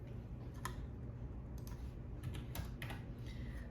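Computer keyboard typing while filling in a prescription entry, a quiet run of light key clicks in short irregular bursts over a low steady background hum, no voices.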